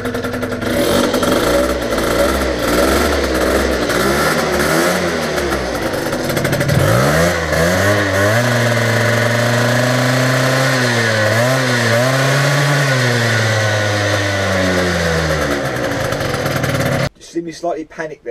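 A Peugeot Speedfight 50 moped engine buzzes loudly and close, revving up and down in repeated rising and falling sweeps before cutting off abruptly near the end.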